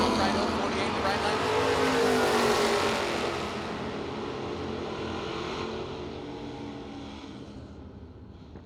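Chevrolet Camaro race car at a drag race, a loud roaring engine that peaks early and then recedes down the track, fading toward the end, with an announcer talking over it.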